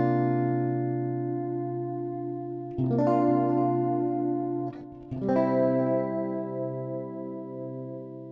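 Held electric guitar chords through a Fractal FM3/FM9/Axe-FX III preset with digital stereo chorus and delay, a lush, shimmering, sustained sound; the chord is restruck twice, each time blooming back into a wide wash.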